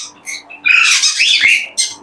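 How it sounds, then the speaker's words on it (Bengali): A parakeet gives loud, harsh, close squawks: two short calls, then a longer rasping burst and a final sharp squawk, with no talking. "খুবই চমৎকার টিয়া পাখি দেখতে পাচ্ছেন"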